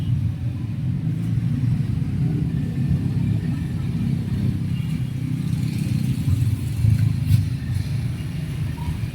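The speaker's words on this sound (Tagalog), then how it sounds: "Kasi ang dami pang sasakyan." Road traffic rumbles past at night in a continuous low drone of car engines, swelling slightly as vehicles pass, with no talk.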